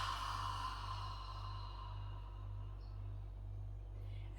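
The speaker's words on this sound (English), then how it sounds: "Exhale out the mouth." A slow, breathy exhale out through the mouth during a guided yoga breathing exercise, soft and steady over a constant low hum, fading gradually toward the end.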